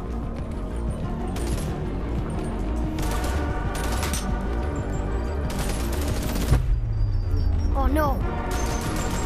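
Automated turrets in the VR game BONELAB unleash sustained rapid-fire gunfire, dense bursts of shots hammering on for several seconds with a brief crash near the end, while a player speaks briefly over it.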